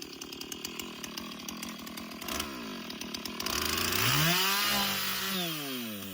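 Chainsaw cutting wood outdoors, a steady close engine drone that rises in pitch and swells louder as the chain bites into the log, with revving sweeps near the end.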